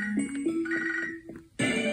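Phone ringing in the Pokemon HeartGold video game, a short electronic ringtone of chiming tones that stops briefly and then restarts, loud and clear with no speech.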